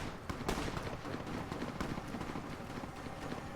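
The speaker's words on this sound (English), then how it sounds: "Here's some gunfire." Gunfire in the video game Fallout: New Vegas near an airport, a few sharp popping shots over a busy rumbling background, one loud crack standing out early.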